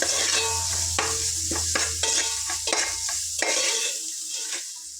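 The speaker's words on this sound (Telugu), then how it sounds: "అల్లం వెల్లుల్లి పేస్ట్ పచ్చివాసన పొయ్యేంత వరకు చక్కగా ఫ్రై చేసుకోవాలి" Ginger garlic paste with turmeric sizzles and fries in a pan while a spoon stirs it with repeated scraping strokes, steady and close, with no talking.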